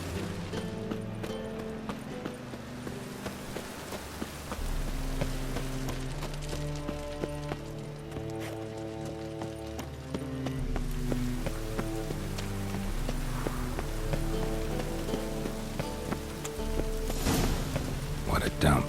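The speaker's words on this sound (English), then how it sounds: "I like rain." Rain falling in The Witcher 3 video game, a steady patter on surfaces beneath a musical score, with a character speaking over it.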